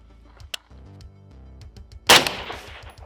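A single sharp, loud rifle shot from an LMT bolt-action rifle with a Shorty 10.5 piston cracks out near the end, its echo trailing off after quieter low humming tones.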